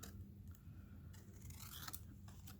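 Scissors snip through paper cutting out a simple printed image for a press-on gift card pocket card, with several crisp, close cuts and soft paper rustling between them.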